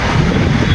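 Strong wind buffets the microphone outdoors in Abu Dhabi, a loud, steady low rumble across the whole brief moment with no voices.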